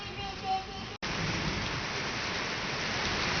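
Rain falling outdoors in Tajikistan, a dense steady hiss of drops that cuts out for an instant and then resumes evenly, close and moderately loud.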